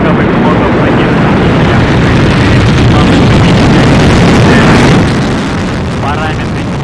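The Soyuz MS-28 rocket's central and side-booster engines at liftoff produce a loud, dense roar that fills the air, then drops somewhat in level near the end, with launch-control radio voices over it.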